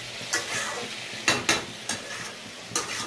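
A vegetarian papaya, potato and chickpea curry is stirred and fried with spices in a pan: a steady sizzle runs throughout, punctuated by several sharp scrapes and clinks of the spoon against the pan.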